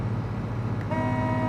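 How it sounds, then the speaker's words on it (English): A steady horn tone from a vehicle in the Construction Simulator video game comes in about halfway through, close and sustained over a low engine rumble. "I'll probably realise I'm honking the horn"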